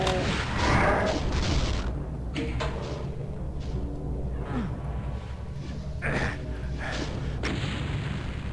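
Chaingunner enemies in a Doom-style first-person shooter fire from distant ledges, a dense, continuous barrage of rapid shots and booms that stays loud throughout with brief swells and impacts.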